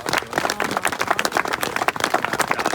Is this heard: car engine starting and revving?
no